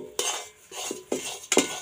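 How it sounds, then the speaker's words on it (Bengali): A spoon scrapes semolina around a pan in four quick, close strokes, giving a rhythmic gritty rasp with light metallic clinks and no talking. "এটা কিন্তু ভালোভাবে এইভাবে নাড়িয়ে নিতে লাগবে"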